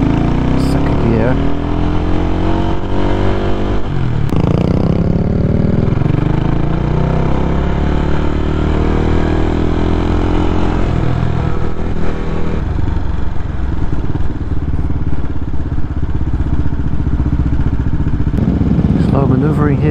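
A CCM Flat Tracker motorcycle, a light bike, accelerating through the gears, its engine note climbing in repeated rising sweeps, loud and close, while a rider talks over it.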